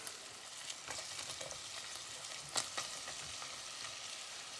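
Onions fry in a cauldron, a quiet, even sizzle broken by a few sharp crackles and stirring knocks near the middle.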